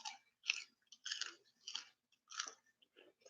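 Raw sugar snap peas are crunched close up, with five or six distinct crisp bites and chews in an irregular rhythm against silence.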